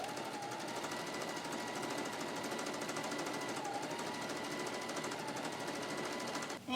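A sewing machine runs a basic straight-stitch seam on fabric for a crazy-quilted storage bin. It makes a steady, continuous rapid mechanical chatter that holds evenly from start to finish, close and fairly quiet.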